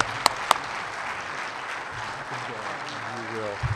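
Audience applause welcoming Barbara Metcalf to the podium for her presidential address, a steady wash of clapping, moderately quiet and continuous, with a couple of sharp nearby claps standing out early on.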